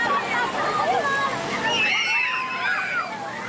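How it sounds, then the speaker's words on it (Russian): A fire tanker truck sprays water and foam during a demonstration at a fire and rescue station, a rushing, sloshing spray heard up close, while a voice speaks over it. "Ребятам продемонстрировали подачу воды и пены от автоцистерны."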